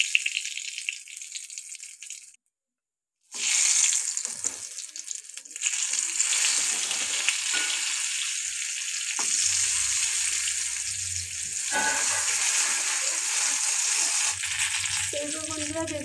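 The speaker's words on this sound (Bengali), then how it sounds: "ভালো করে আমি উল্টো পাল্টে বেগুনগুলো ভেজে নিচ্ছি" Eggplant slices fry in hot oil with a loud, steady sizzling hiss that cuts out briefly for about a second before resuming. Faint stirring rattles sound as the slices are turned.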